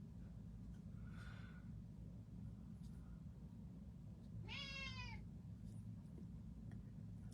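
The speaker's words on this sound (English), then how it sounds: "Oh, I have my little whiner kitty that's awake now" A house cat gives two whiny meows, a short faint one followed by a louder, drawn-out wail, over a steady low background hum.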